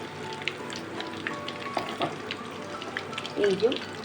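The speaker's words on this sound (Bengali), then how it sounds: "এই তোপসে মাছটা কিন্তু ভাজা হয়ে গেছে।" Topse fish frying in oil, a steady low crackling sizzle throughout with a louder bubbling burst near the end, close by and without talk.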